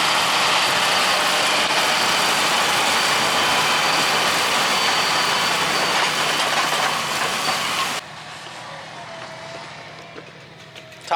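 A John Deere 285R-sized tractor engine drones heavily while pulling a 28-foot plow at about six miles an hour, a loud, steady broadband rumble that suddenly drops away to quieter background noise near the end.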